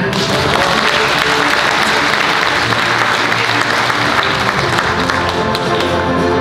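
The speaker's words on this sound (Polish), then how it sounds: "Ogromne brawa." Loud, sustained applause from an audience at an award gala for a trade fair, many hands clapping in a dense, even roar with a faint murmur of crowd beneath.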